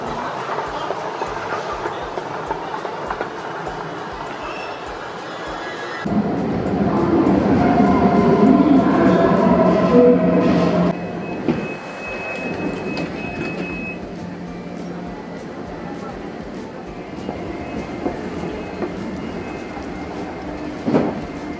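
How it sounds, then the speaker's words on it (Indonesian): A train at a main railway station in Germany, rumbling steadily with rail clatter and a louder surge as cars pass, then settling into quieter rolling and station ambience with faint squeals. "Udah sampai Hauptbahnhof, kita lagi mau naik kereta, jadi jauh."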